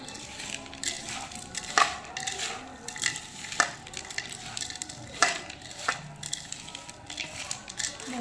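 Chanachur being mixed by hand with a squeeze of lemon juice, giving soft crunchy rustling and scraping with sharp crackly bursts at irregular intervals, close and moderately quiet.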